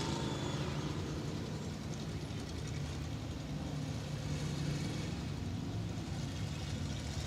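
A race car's engine hums steadily at low idle as it rolls into victory lane at a dirt speedway at night, a continuous mid-level drone with no break.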